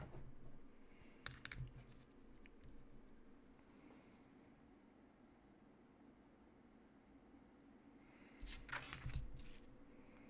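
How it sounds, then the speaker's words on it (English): Bursts of clicking keystrokes on a computer keyboard while listing Pokemon cards, quick clustered taps near the start and again near the end, separated by a quiet lull over low background hiss. "I'm typing you into the wrong place"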